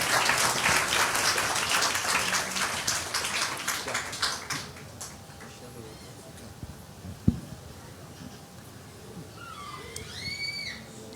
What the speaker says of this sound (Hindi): Let's हैं। put our hands together.